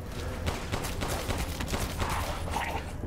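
Dense, continuous bursts of gunfire during a Resident Evil Village werewolf fight, loud and steady across the whole stretch with no clear gaps between shots.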